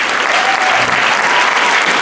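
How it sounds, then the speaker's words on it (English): Audience at a middle and high school concert gives the performers a sustained round of applause, dense and steady throughout with no talking over it. "We can applaud them."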